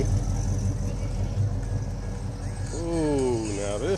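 Cars rolling slowly into an outdoor car show, with a low, steady engine drone beneath crowd voices and a brief tonal whine near the end.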